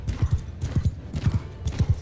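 Horse hooves in the game Mount & Blade II: Bannerlord, a steady clip-clop gait with paired thuds repeating about twice a second, close and distinct against a quiet battlefield backdrop.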